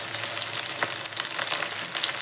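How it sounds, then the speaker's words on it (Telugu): Fenugreek leaves, two bunches, fry in hot oil for a curry, giving a steady close sizzle and crackle that holds evenly throughout, with no talking. "అలాగే ఇందులోకి మెంతి కూర వేస్తున్నానండి, 2 కట్టలు మంచిగా ఆయిల్లో."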